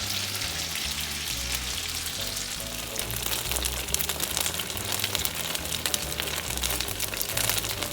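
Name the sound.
polenta circles frying in oil in a pan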